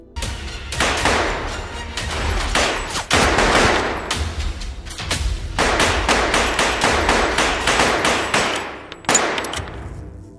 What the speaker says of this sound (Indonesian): lalu terjadilah baku tembak dengan Black.